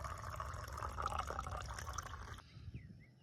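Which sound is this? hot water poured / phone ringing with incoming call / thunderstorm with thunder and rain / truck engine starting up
hot water poured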